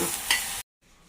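Oil sizzles loudly as onion and dried coconut are stirred in a pan until golden, then it cuts off abruptly, leaving a faint hiss.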